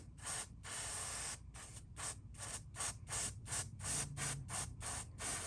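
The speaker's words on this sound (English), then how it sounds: "black as the base and spraying white over the top of it." An aerosol can of spray paint sprays in a series of short hissing bursts, one long burst followed by many quick repeated spurts, close and fairly loud.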